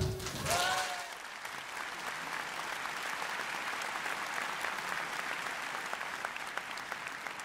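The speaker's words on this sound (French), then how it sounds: "Alors, on l'applaudit." An audience at a children's drawing contest event claps steadily after a brief opening sound, dense applause continuing evenly to the end.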